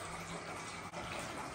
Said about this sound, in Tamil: ஸோ ஓரளவுக்கு தண்ணி ஃபில் ஆயிடுச்சு.